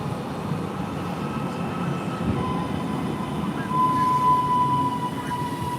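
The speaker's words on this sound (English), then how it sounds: "the train is just coming into this platform" A train pulling into a railway platform, a steady loud rolling rumble with a thin metallic squeal rising late on, heard close by with no talk over it.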